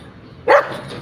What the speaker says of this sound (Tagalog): Tapos may malaking aso dito.